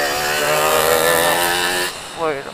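An old motorcycle engine drones close by with a steady buzzing note, then cuts off abruptly and gives way to a brief rising rev as the bike passes.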